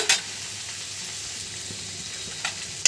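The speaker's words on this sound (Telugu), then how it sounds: "ఈ వేరుశనగ పప్పుని బాగా చిన్న మంట మీద పెట్టి వేయించాలండి" A low, even hiss of peanuts dry frying over a very low flame fills the pan, punctuated by occasional scraping stirs at the start and end.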